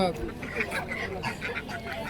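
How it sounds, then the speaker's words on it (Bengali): Ducks quack in short, faint bursts at a busy village poultry market for country ducks and chickens, mixed in with background chatter. "এখানে অনেক হাঁস মুরগি আসে"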